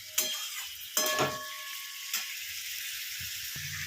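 Papaya curry for a malaikari is sautéed in a pan, with a steady close sizzle and a few sharp scraping clatters of a spoon stirring against the metal.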